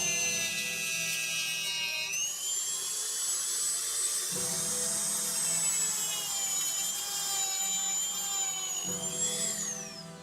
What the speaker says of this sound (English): I'm gonna Dremel again.